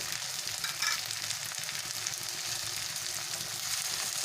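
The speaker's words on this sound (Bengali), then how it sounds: "কচুরলতিটা ভালো করে কষতে হবে" Taro stolons (kochur loti) are sautéed in a pan before the spices go in. A steady, close, hissing sizzle of frying continues throughout, with faint stirring scrapes.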